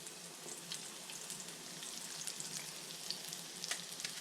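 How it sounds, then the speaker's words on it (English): Greens and onion cooking in a pot on a home stove, giving a steady, soft sizzle and frying crackle with faint scattered pops throughout, no voices. "now I'm fixing to cook some greens"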